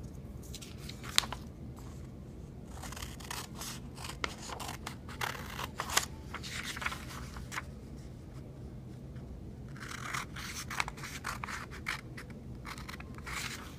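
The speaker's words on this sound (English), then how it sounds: "we're going to cut on the dotted lines." Scissors snip through a paper worksheet along dotted lines, quiet close crisp cuts repeating in irregular bursts with soft paper rustle between them, no talk.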